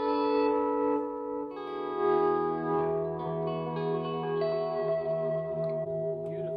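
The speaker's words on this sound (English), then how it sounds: "There's no reverb, it's just the delay." Electric guitar played through an Analog Man analog delay pedal with no reverb: sustained chords and single notes ring out with audible repeating echoes trailing behind each attack, moderately quiet and alone.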